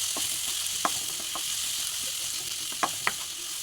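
Coriander, cumin and chilli powders being stirred in a hot pan for prawn bhuna, a soft continuous sizzle under a handful of sharp spoon scrapes and clinks, with no one talking.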